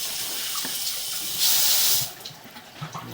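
Water runs steadily into a laundry tub, with a louder gushing burst in the middle that cuts off, leaving faint drips and trickles.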